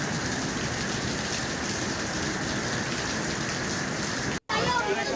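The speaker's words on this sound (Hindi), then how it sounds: "मज़े की बारिश।" Heavy rain mixed with hail pours down in a dense, loud, constant hiss, broken by one brief dropout near the end.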